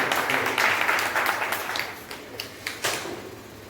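Audience applause at a teachers' association farewell ceremony, a dense wash of many hands clapping that gradually thins and fades, with a few louder individual claps near the end.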